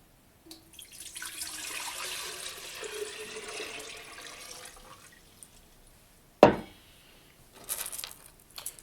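2.2 litres of neutral spirit poured into the boiler of an Air Still Pro make a soft, steady liquid trickle lasting several seconds, followed by a sharp clunk and then brief splashy noises.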